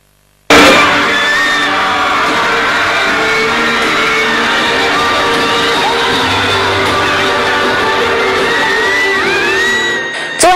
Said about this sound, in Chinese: 就迎来了现场众多粉丝的掌声和欢呼声